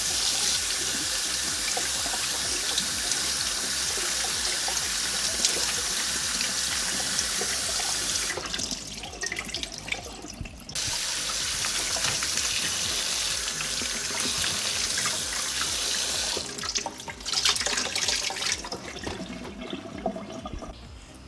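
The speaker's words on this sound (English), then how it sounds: "I'm just going to give it a quick rinse." Corn cobs rinsed under a running kitchen tap, a loud, steady rush of water splashing near at hand, briefly broken twice as the flow is interrupted or the corn shifts under the stream.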